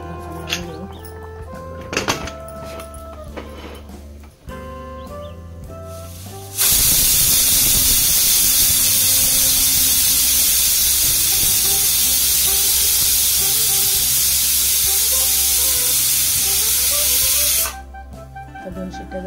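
A pressure cooker on a gas stove bursts into a loud, sustained steam whistle and hiss lasting about ten seconds while goat trotter paya curry cooks, preceded and followed by quieter kitchen clatter.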